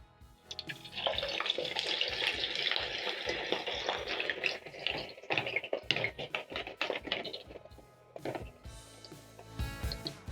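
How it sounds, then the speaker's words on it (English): Potato wedges hiss and crackle as they fry in hot oil, lowered in batches with a skimmer; a broad, steady bubbling wash runs close and loud for most of the stretch, easing off and thinning near the end. "I'm going to be frying in batches."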